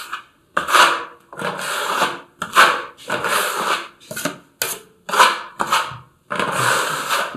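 A 25 mm blade scrapes filler along a tiled wall in repeated rasping strokes separated by short pauses, close and fairly loud, using the wall edge as a guide.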